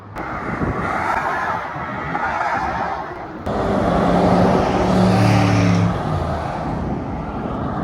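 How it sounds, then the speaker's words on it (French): A Ferrari F8 passes in a convoy of cars on a highway, a loud, broad roar of traffic swelling as the engine surges past nearby, with a brief rising engine note before the rush fades slightly. "le convoi avec une F8"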